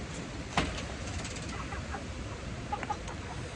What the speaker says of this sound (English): Chicken in one of the nesting boxes outside.